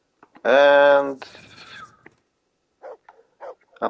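A dog barks in the medieval role-playing video game Kingdom Come: Deliverance, a loud harmonic bark or whine followed by a few shorter, fainter yaps.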